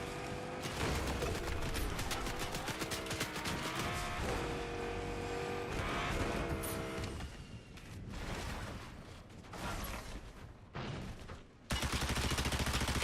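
Dense, sustained automatic gunfire from a Fortnite match, with rapid overlapping bursts and a vehicle engine running underneath, continuous and loud through most of the stretch with brief breaks near the end.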